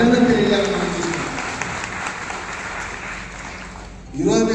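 A crowd at a Madiga community political gathering breaks into broad, reverberant applause for the chief minister. The clapping runs beneath and between a speaker's amplified voice.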